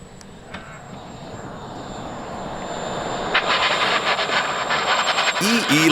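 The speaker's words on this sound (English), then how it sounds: "EE Lightning RC planes look like the real thing, but they're model planes controlled via remote" An EE Lightning radio-controlled model jet flying overhead, its engine noise swelling steadily louder as it approaches, with a higher whine building toward the end and a voice briefly heard near the finish.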